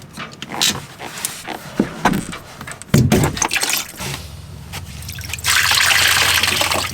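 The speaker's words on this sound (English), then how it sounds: "Plenty of water coming in, so somewhere else water stops." Water trickles and splashes into the cooling system of a Volvo boat engine during mechanical work, irregular gurgling and dribbling close by that swells into a steady louder rush near the end.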